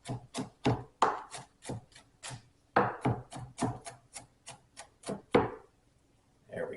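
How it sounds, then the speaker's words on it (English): A knife chops cucumbers finer on a cutting board, a close series of crisp, rhythmic knocks in quick bursts with a short pause midway, no talking. "And then I'm going to come back and cut them the other direction. And maybe chop them a little bit finer."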